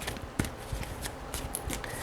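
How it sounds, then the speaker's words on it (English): A deck of pick-a-card reading cards is shuffled by hand in quick, crisp riffling bursts, close and moderately quiet, with no talking. "shuffle up"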